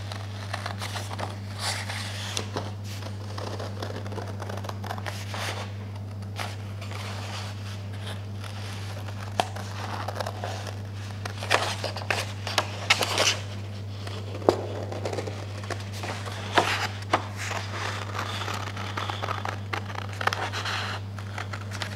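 A paper template for acorn-shaped craft bunting being cut out with scissors: a long run of soft, irregular snips and paper rustles over a steady low hum, close and quiet, without talk.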